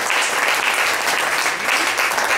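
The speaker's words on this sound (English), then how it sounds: "So how about a round of applause to all of our veterans," Audience at a live Elvis Week tribute show at the Clarion in Memphis applauding veterans, a steady, dense wash of clapping that holds loud throughout without a break.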